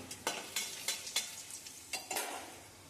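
Nigella seeds, bay leaves and dried red chillies fry in hot oil with a steady sizzle, broken by a regular series of sharp spatula scrapes against the pan, close and clear with no talking.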